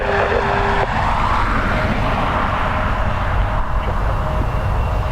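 Jet aircraft rolling for takeoff on runway 10 right at Dublin Airport, a loud, steady broadband roar holding constant throughout with no voices.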